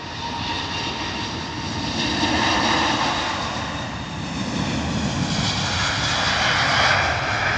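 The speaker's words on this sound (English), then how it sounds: "Beautiful Etihad A380. Power set rolling out to Abu Dhabi." An Etihad Airbus A380 jet at London Heathrow rolls on its takeoff run to Abu Dhabi, a loud, continuous broadband engine roar with a whining overtone that swells and fades slightly in waves, with no voices.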